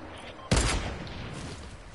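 A single loud, close gunshot blast in a video game, an abrupt boom followed by a fading rumble and quieter background game noise.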